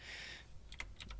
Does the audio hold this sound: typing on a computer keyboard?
yes